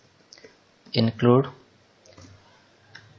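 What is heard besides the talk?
keyboard typing C code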